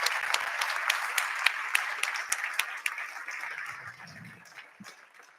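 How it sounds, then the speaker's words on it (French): An indoor conference audience applauds Monique Leroux with a steady wash of clapping at moderate distance, several sharp individual claps standing out before the applause thins and fades, then a few low spoken words. "Donc, je vous demande d'applaudir Monique Leroux."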